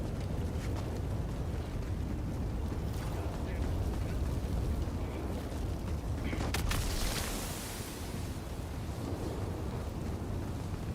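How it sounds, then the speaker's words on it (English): A fire tornado in Helldivers 2 gives off a continuous low, roaring whoosh like strong wind, with brief crackling flares rising above the steady rumble. "Fire tornado following fire tornado."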